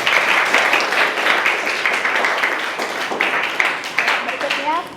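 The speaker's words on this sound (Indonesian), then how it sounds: "Tepuk tangan untuk kita semua." Applause from a classroom group of students, a steady dense patter of many hands clapping throughout, fairly close and loud, with faint voices mixed in.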